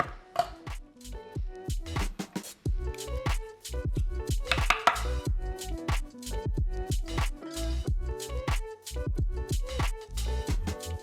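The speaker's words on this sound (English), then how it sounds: "I have a handy tool here that's gonna make mincing this garlic a lot easier" Garlic being minced with a handy mincing tool, rapid rhythmic chopping taps on a board, close and crisp, continuing steadily for about eleven seconds with no speech.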